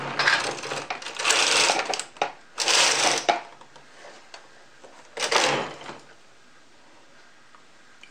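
Knitting machine carriage being pushed across a row, three loud mechanical whirring sweeps of about a second each separated by pauses, close up, followed by a quieter stretch of faint clicks.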